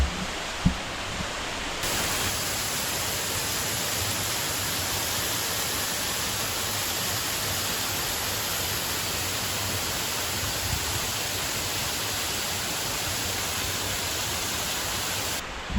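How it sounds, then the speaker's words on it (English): Koyo waterfalls on Mount Akaboshi in Ehime, Japan, in autumn, a loud, steady roar of falling water with no break, heard close up and alone. "Here's the Koyo waterfalls, autumn colours."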